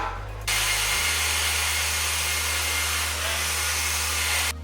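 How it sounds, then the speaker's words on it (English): A steady, loud mechanical whir starts abruptly after a brief low hum and runs continuously, a power drill running close by during work on a Toyota Celica GT-S Turbo. "So let's start drilling now."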